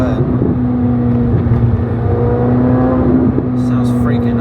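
A Corvette Z06 on the road, its engine a loud, steady, tonal drone heard from inside the car, holding an even pitch with slight swells.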